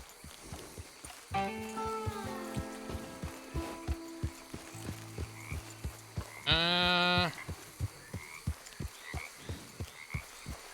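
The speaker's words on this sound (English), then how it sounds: "I heard alligators growling." Deep, rough growls and croaking calls, some long and droning, one sharp brassy burst, over a steady ticking background rhythm.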